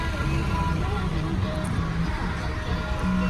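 Steady low road traffic rumble heard from inside a bus stuck in a Mumbai traffic jam, a constant engine and road drone filling the whole clip with faint background chatter.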